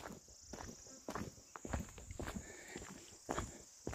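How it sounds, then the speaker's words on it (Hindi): Crickets drone steadily in a forest at night, heard under a series of irregular footsteps crunching close by, with no talking. "इस सन्नाटे को जंगल के झींगों की आवाज़ चीर रही हैं"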